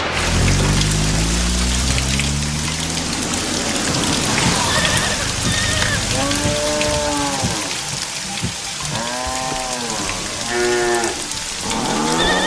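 Steady heavy rain pours throughout, a dense continuous hiss, while cattle moo repeatedly nearby in drawn-out calls, some overlapping, rising and falling over the downpour.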